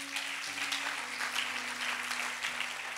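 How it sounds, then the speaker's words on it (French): A church congregation applauding and cheering for the Lord during a French-language sermon, a steady dense wash of clapping over a sustained background tone, with no speech. "Est-ce qu'on peut acclamer pour le Seigneur?"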